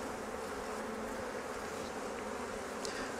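Honey bees buzz around an open vertical Flow Hive during a colony split, a dense, steady swarm drone at low level with a few faint individual bees passing, no voices.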